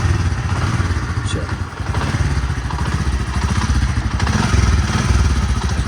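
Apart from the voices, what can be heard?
motorcycle engine starting and running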